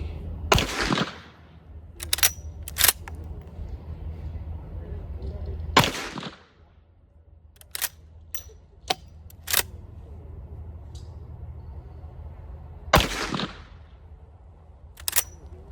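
Gunshots at an outdoor shooting range, several loud sharp cracks spaced unevenly with a few fainter clicks and handling noises between them, a nearby voice murmuring quietly.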